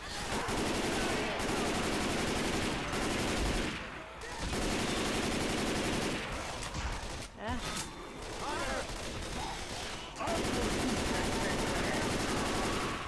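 Video game gunfire in Left 4 Dead 2, including explosive rounds: repeated bursts of rapid shots broken by brief pauses, with some voice faintly present in the mix.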